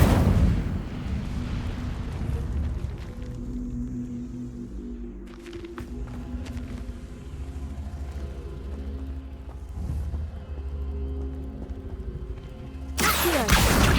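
Incendio fire spell cast in the video game Hogwarts Legacy, a deep rumbling whoosh with crackling bursts sustained over several seconds, ending in a sudden loud blast.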